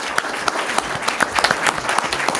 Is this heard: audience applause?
yes